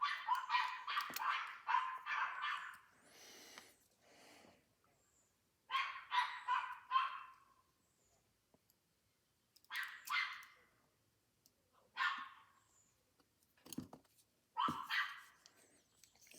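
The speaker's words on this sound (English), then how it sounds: "It's my crappy neighbor's dogs." Neighboring dogs bark in repeated bursts of quick, sharp yaps separated by pauses, fairly distant and faint, with quiet stretches between the volleys.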